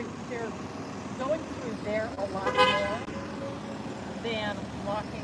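A bus horn toots a couple of short times at moderate distance in Clearwater, Florida, over steady street traffic noise and nearby conversation.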